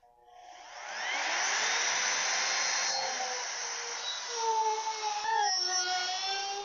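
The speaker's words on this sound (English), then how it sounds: "So let's get routing." A wood router cuts a 3/4 inch deep recess into a wooden frame, spinning up into a loud, steady, high-pitched whine with a harsh rasp that wavers slightly as the bit works through the wood.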